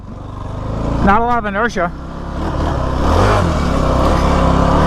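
A Kawasaki KFX 450R quad's engine drones steadily while riding, with a short burst of rising and falling revs near the start, and someone talking over it.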